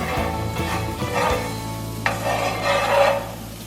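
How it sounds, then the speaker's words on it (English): Vegan butter stirred and sizzling in a greased pan, a steady close frying hiss with scraping strokes and a few brighter crackles, no talking. "We're gonna grease up that pan, make sure nothing's sticking"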